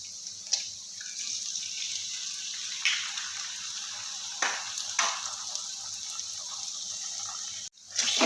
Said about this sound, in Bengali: ডিমটা আমি ভালো করে ফাটিয়ে দেব ফাটিয়ে ভালো করে সবজির সঙ্গে মিশিয়ে নেব